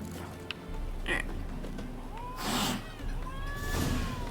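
Cats meow in the Witcher 3 video game, with a few short, fairly close rising meows and a snort-like noise over a low steady background hum.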